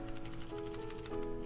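A Seiko SPB091J1 watch bracelet rattles in a quick, even run of small metallic clicks, quiet and close, with no voices.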